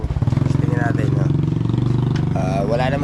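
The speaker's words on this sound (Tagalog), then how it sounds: "Gamit natin itong motor ni Matepo" Matepo's motorcycle engine idles steadily close by with a rapid, even putter that runs through the whole stretch, while a voice talks over it.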